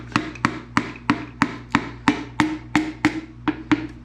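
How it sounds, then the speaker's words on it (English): Pistons and rods being tapped into a Nissan KA24DE engine block during a 240SX bottom-end assembly, a steady series of about a dozen sharp, close knocks at an even rhythm, with no talk. "put the pistons and rods together, and I'm just going through putting them in"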